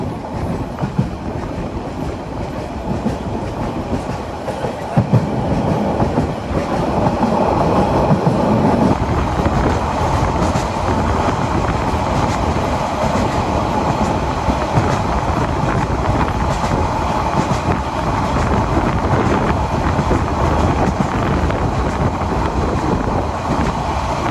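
On board the Probal Express on its inaugural Cox's Bazar to Chittagong run through hilly country, a constant heavy rumble of wheels on track with rhythmic clatter and some wind rush.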